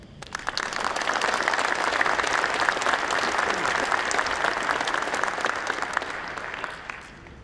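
An audience at a conference general session applauds to welcome a speaker to the stage, a steady wash of many hands clapping that tapers off at the end.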